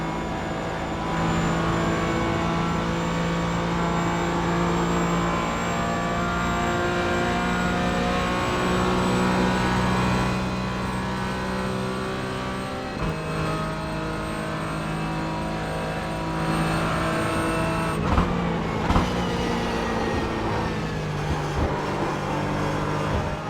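A race car in the iRacing sim game drives steadily with a loud, continuous engine drone and shifting pitch throughout, the note briefly dropping around the midpoint and again near the end as the car brakes and eases through corners.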